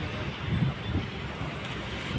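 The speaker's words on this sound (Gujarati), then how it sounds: "આ મોજા અત્યારે પસાર થઈ રહ્યા છે" Sea waves roll past a boat at Mangrol harbour, fishing port, at night: a soft, steady wash and rumble mixed with wind buffeting the microphone, faint and continuous with no voices.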